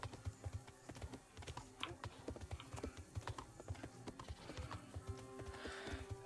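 Horse hooves clip-clopping in the medieval game Kingdom Come: Deliverance as a horse is ridden toward a tournament, a steady rhythmic beat of moderate volume with some clicking over it and no talk.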